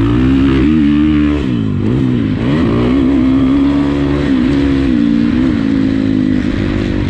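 A 2019 Husqvarna FC350 dirt bike rides in third gear, its four-stroke engine buzzing loud and close with constant throttle rises and falls, some clatter, and no talking.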